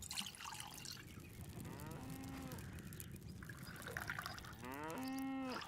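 Cow mooing in the farming video game Farmer's Life: two drawn-out moos, the second longer and rising, over a constant trickling, watery background hiss.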